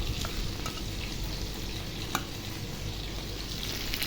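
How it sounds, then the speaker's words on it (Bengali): Sofia fish frying in oil, a dense, close crackling sizzle with a few sharp pops, continuous throughout, with no voices. "এখন সব ভেজে নেব।"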